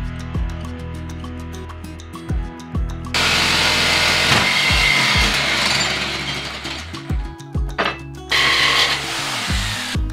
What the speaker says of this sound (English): Bosch metal jigsaw blades love to cut aluminium